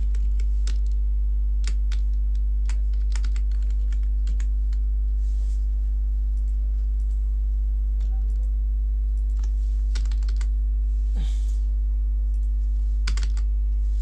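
Computer keyboard typing while writing Python Tkinter code, irregular bursts of crisp key clicks with pauses, close, over a loud constant electrical hum.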